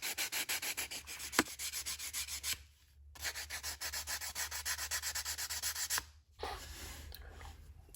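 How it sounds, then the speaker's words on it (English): Sandpaper rubbed by hand against a wooden box lining, light back-and-forth scratchy strokes in a steady rhythm with two short pauses, close and fairly quiet. "So I took a piece of sandpaper and I tried to just gently take off just a little bit of material."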